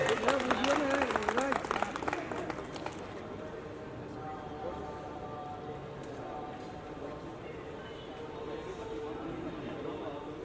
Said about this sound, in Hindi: ताली भी तो बजाइए कम से कम अपने लोगों के लिए।